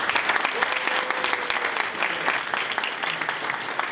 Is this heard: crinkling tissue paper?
no